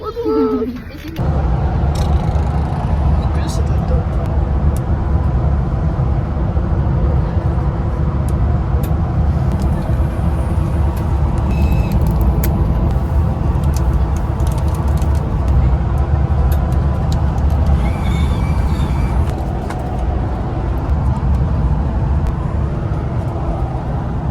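Inside the lower deck of a double-decker bus, a constant loud low engine and road rumble carries on throughout, with faint rattles and background voices of children.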